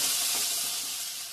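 Water poured onto frying spice paste in a hot pan sets off a loud, close burst of steamy hissing that stays broad and even, then eases slightly toward the end.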